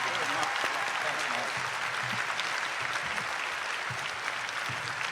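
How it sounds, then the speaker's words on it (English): A dinner audience at a Republican Lincoln Day event applauds for a congressman, a steady roomful of clapping that holds throughout with faint voices mixed beneath. "Let's give another round of applause to Congressman Mike Waltz"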